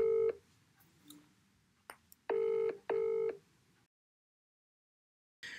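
A telephone number being dialed on a keypad: a short touch-tone beep, then two longer, loud, steady tones close together, with faint clicks between them and no talking.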